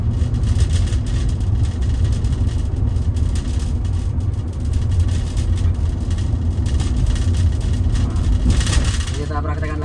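A 2019 Toyota Veloz with a manual gearbox hums steadily while driving, its low engine drone constant throughout, with someone talking over it.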